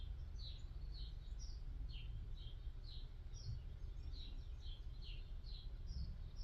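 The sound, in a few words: birds chirping outdoors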